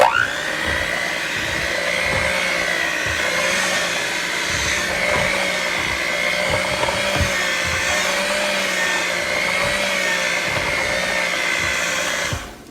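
An electric hand mixer whirs steadily through coconut pound cake batter made with sour cream, a loud continuous motor drone with faint rhythmic knocks of the beaters against the bowl, ending as it switches off.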